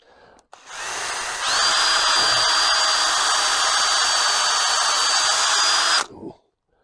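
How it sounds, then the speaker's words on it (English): A power drill bores steadily into a squared-up piece of garden timber, a loud, sustained whirring grind lasting several seconds before spinning down and stopping. "I just square this timber up and I'll drill this"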